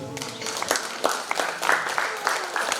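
An audience at a theatre event applauds, a steady patter of many hands clapping throughout, with a voice faintly mixed in.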